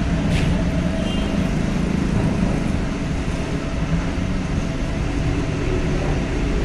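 Heavy military steel trucks of an army convoy rumble steadily past at a ferry port at night, a continuous loud low engine drone with no distinct breaks.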